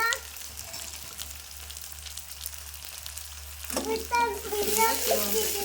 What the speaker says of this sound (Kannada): ಉಳ್ಳಾಗಡ್ಡಿ ಒಂದು ಸ್ವಲ್ಪ ಫ್ರೈ ಮಾಡ್ಕೊಂಡ್ರಿ